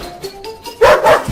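Dog barking indoors during a comedic home skit: a couple of loud, close barks and yelps follow a few softer whimpering sounds.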